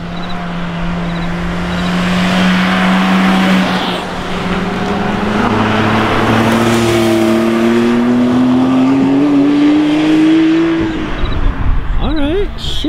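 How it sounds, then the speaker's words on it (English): A Porsche 911 on a canyon road rises from a distant engine drone to a loud, revving pass as it climbs through the gears. The engine pitch sweeps steadily upward before fading, and people talk briefly at the end. "Oh, we got the Porsche coming back."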